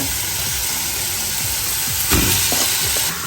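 Aloo paratha filling frying in a pan, a steady close sizzle with faint stirring scrapes and a brief louder surge of hissing partway through, no voices.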